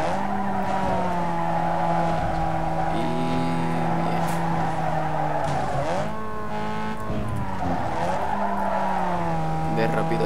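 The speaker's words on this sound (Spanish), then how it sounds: "Aquí un buen frenazo." Hard braking with tire squeal from a Mazda Miata in the racing game Need for Speed Underground 2. A steady, loud engine drone with harmonic whine runs throughout, and a brief squeal and dip in pitch come around the middle. A voice talks over it.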